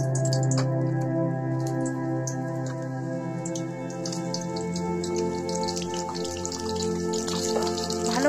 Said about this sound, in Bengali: কিছুটা পরিমাণ তেল দিয়ে আমি এই পটলগুলোকে ফ্রাই করে নেব